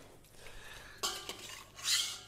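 Boiled salted potatoes drop into a pan of melted butter with brief clattering and a soft bright splash-sizzle, near and faint, without talk.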